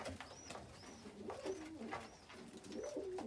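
Pigeons coo at a garden bird feeder, soft repeated calls that rise and fall at a moderate distance, with faint chirps from other birds underneath.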